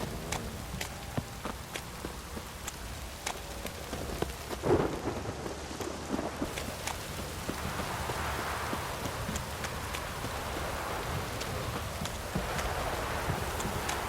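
Heavy rain and rumbling thunder in the video game The Witcher 3 make a steady, dense downpour with occasional sharper cracks and a swelling roll midway.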